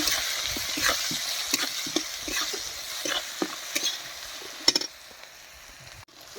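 Chilli powder and spices stirred in a frying pan with tomato and onion for matar paneer: a constant frying sizzle punctuated by regular spatula scrapes and taps, close, fading abruptly near the end, without speech.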